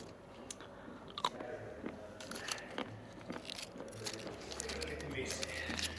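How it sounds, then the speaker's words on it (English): Chewing and biting on Koenigsegg Agera 100 chocolate, soft crunchy bites and mastication sounds close to the mic over faint room noise. "So here I am reading Evo and eating Koenigsegg chocolate"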